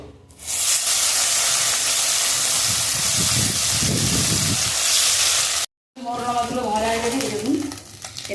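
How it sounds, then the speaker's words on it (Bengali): Small morla fish fry in a pan with a loud, continuous sizzle and spattering hiss, a brief cut, then more sizzling with a faint voice briefly audible over the crackle. "মরলা মাছগুলো ভেজে নেবো"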